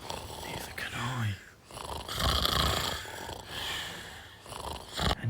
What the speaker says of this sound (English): I can't sleep when he's snoring this loud.